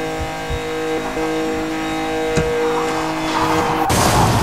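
A Lamborghini engine held at top speed in Need for Speed, a steady loud whining drone with sustained tones and a brief thump, swelling into a rougher roar near the end.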